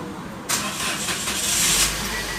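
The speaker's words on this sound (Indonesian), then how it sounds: "Kita starter dulu." A Toyota Calya / Daihatsu Sigra with a weak battery and its battery warning light on cranks and fires up abruptly, settling into a loud, close, steady idle.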